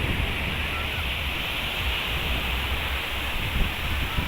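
Steady broadband wash of ocean surf on Sago Beach, continuous and fairly loud with a faint wind rush, no distinct breaks between waves.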